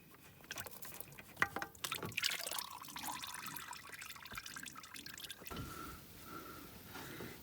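Engine oil drips from a Toyota Prius during an oil pan swap in a shop, with scattered small drops and splashes over a steady background hum, some louder clicks and handling noises mixed in.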